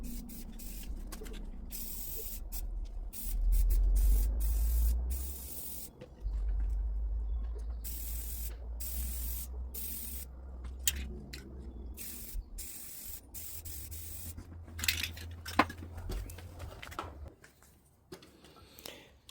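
Intermittent hissing bursts from an aerosol spray paint can coating welded steel angle pieces with 3/8 nuts welded on for a battery box clamp-down, short sprays and longer sweeps with pauses, close up and with no talk.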